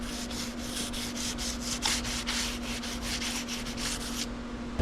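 Wet sanding of Pontiac LeMans paint by hand with 3000-grit paper: rhythmic back-and-forth rubbing strokes, about four per second, close and steady over a constant low electrical hum.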